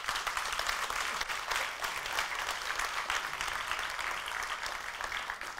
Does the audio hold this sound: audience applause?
yes